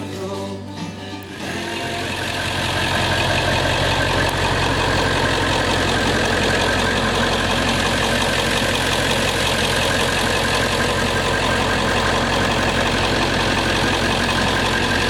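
A 1998 Ford E-350 bucket truck's 7.3L Powerstroke Jasper diesel engine turns over and settles into a loud, steady, rumbling idle with a rough, knocking clatter, close by and continuous.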